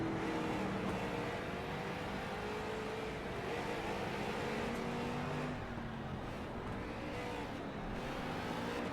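Street stock race cars lap an oval track at a season finale, engines roaring steadily and close, with rising and falling pitch as the cars power out of a turn and down the front straightaway.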